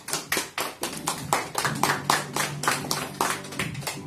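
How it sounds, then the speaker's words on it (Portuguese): Applause during a night prayer gathering: a small group clapping in a quick, slightly uneven rhythm, close and fairly quiet, with no voices over it. "Uma salva de palmas para o nosso Deus."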